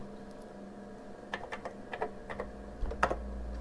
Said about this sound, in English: So, of course, we have to type something in.